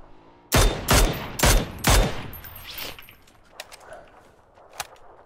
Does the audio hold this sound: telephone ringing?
no